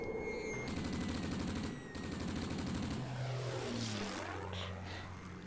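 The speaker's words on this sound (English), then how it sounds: "Literally a yak strafing civilians." In the Command and Conquer Red Alert game, a Soviet Yak propeller aircraft drones overhead while rapid machine-gun bursts rattle out, strafing civilians, the engine pitch shifting as it passes.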